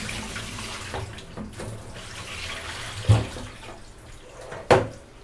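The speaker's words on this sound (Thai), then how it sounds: "จะเทน้ำทิ้งก่อนนะคะ" Salty soaking water is poured off eggplants in a kitchen, a steady splashing trickle with a couple of louder sloshes.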